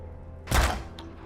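A single western rifle shot in Hard West, a short sharp crack with a dull thump, followed a moment later by a faint small click or echo.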